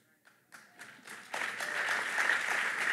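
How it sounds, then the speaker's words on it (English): A church congregation breaks into applause, starting with a few scattered claps that quickly swell into sustained, fairly distant clapping from a large crowd filling a hall. "I'm glad they clapped because the other two campuses roared when we said that."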